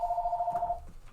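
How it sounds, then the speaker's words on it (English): A telephone rings with a steady electronic tone that lasts most of a second and then cuts off, clear and fairly close against a quiet room. "Sorry about the phone ringing."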